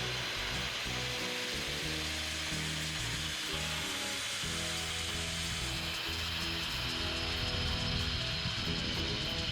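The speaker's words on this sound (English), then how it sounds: "What I'm going to be using for this is a grinder with a flat sanding disc on it." An angle grinder fitted with a flat sanding disc grinds aggressively across a wooden board to distress it, a loud continuous abrasive whine with a steady tone.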